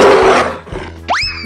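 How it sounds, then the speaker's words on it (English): A gorilla gives a loud, close, rough roar lasting about half a second, followed by short grunting bursts and a rising tonal cry. "Gorilla."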